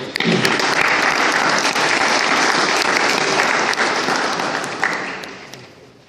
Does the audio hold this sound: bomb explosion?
no